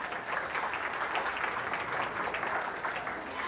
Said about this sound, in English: Let's give them a round of applause as they go back.